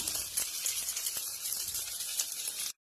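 Nigella and fennel seeds sizzling in hot white cooking oil, a bright continuous hissing fry with small crackles, close up, cutting off abruptly at the end.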